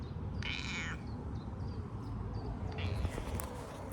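A cat meows once in a garden in June, a short drawn-out call over a constant outdoor background hiss, with fainter sounds afterward.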